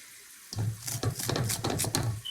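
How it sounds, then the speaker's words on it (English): Water runs from a kitchen tap into a sink close by while summer corn is being prepared, a steady splashing stream lasting about two seconds with no talk over it. "I'm not for sure that she's not overflowing the sink."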